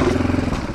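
A KTM 500 dirt bike engine rumbles loudly and close during a clutch pivot turn on a trail, a brief burst of throbbing engine noise with some clatter.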